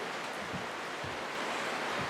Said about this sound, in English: It's raining heavy again now.